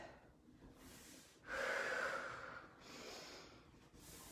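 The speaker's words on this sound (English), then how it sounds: "you can hear my breathing here. I am using my breath to reset before I go up into my next set" Heavy, audible breaths between HIIT exercise sets, with sharp inhales and long exhales that swell into one strong breath before easing off, close and fairly quiet.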